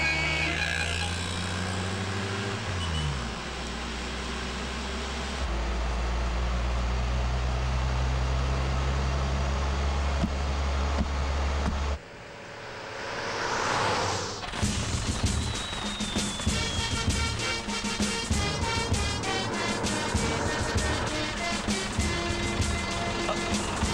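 A jeep engine idles and drives with a steady low rumble for about twelve seconds, then a sudden cut brings in a louder burst and busy music that mask it.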